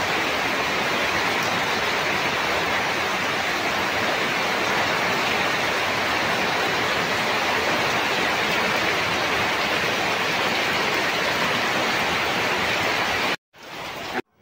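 Steady rain falling outside, a dense, even, continuous hiss that stays loud and unbroken for the whole stretch before cutting off abruptly near the end.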